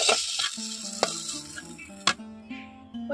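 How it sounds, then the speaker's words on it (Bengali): Okra frying in a wok-style pan for bhindi masala, heard as a close, steady sizzle broken by sharp clinks and scrapes of a utensil stirring against the metal, with no talking. "আমি ঢ্যাঁড়সটাকে খুব ভালো করে ভেজে নিয়েছি"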